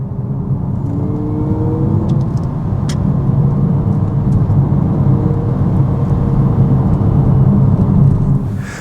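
The Abarth 600E Scorpionissima electric hot hatch drives along with its sound generator humming, a steady low whirring drone with faint rumble and tonal lines rising gently, continuous and close, without talk.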